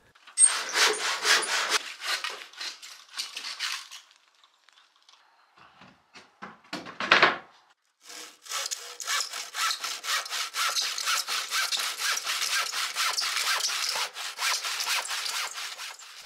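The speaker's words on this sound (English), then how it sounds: "I could cut the last of the 450 boards before noon the next day" Hand saw cutting through wooden boards for a cabin sleeping loft, steady rasping strokes for several seconds, a brief pause with a few scattered knocks, then a long unbroken run of close, loud sawing.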